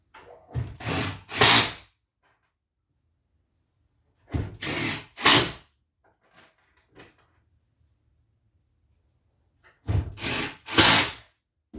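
A power drill drives pocket screws through an outer plywood panel into a cabinet face frame, three separate bursts of high whirring that rise as each screw seats, loud and close, with quiet pauses and small handling knocks between them.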